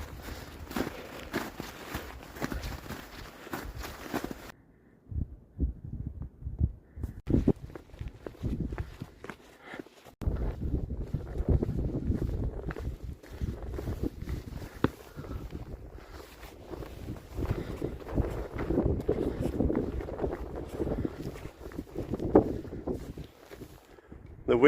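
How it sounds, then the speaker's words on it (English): Gusts of wind buffet the microphone with low rumbling bursts on the Camino de Santiago near O Cebreiro, alongside footsteps and occasional voices in the background. "Although you are facing in the wrong direction of the wind"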